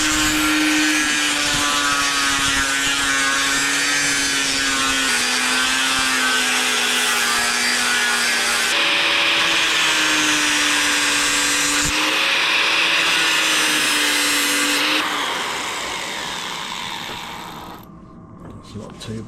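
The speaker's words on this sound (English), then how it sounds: "now a bit of grinding" An angle grinder with a disc works a metal fork bracket for a custom bobber motorcycle, giving a loud, continuous high whine that shifts pitch as pressure changes, then spins down near the end.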